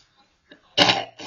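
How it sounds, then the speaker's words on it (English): A single harsh cough bursts out close by, with a shorter follow-up cough after a brief gap, preceded by faint breathy sounds. "Got rid of that cough"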